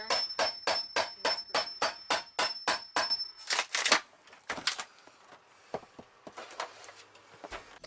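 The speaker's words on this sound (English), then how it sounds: "You're using a chisel Yeah. and a hammer." A hammer striking a chisel to pry off RV wall paneling during a bunkhouse removal, a rapid regular run of about a dozen sharp close taps, then scattered knocks and scraping.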